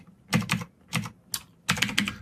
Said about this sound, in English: let me just type in a really quick code example here